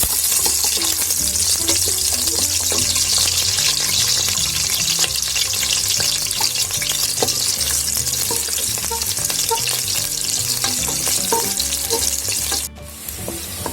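Chopped small onions with whole spices sizzle steadily in hot oil for kambu biryani, a loud, continuous close frying hiss with occasional stirring clatter, cutting off briefly near the end.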